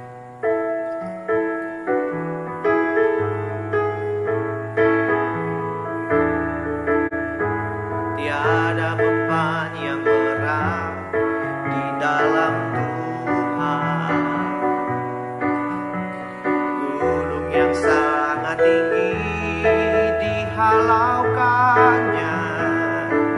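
A slow church hymn, He Will Carry You, played on keyboard or piano with steady sustained chords and a gentle pulsing rhythm, fuller from midway, without singing.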